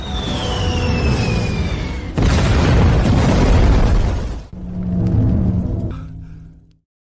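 A missile explosion in a naval battle game erupts as a loud, sustained roaring boom with a descending whistle at first, then a second heavy rumbling blast and a fading tail, with no voices.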